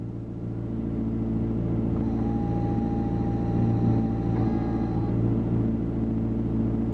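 The active spoiler of a McLaren P1 motors up while the front lowers as the car enters race mode, a thin steady electric whine lasting a few seconds over a constant low idle hum.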